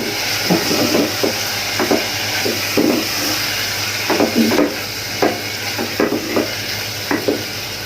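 Radish greens go into sizzling spices in a pan for a small-shrimp dish, stirred with loud, rhythmic scraping strokes roughly every half second over a constant frying hiss, with no talking.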